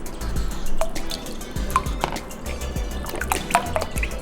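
Cooking stock is poured into a jug in a kitchen, producing close splashing and dripping liquid sounds with short trickles and drips over a few seconds, without any speech.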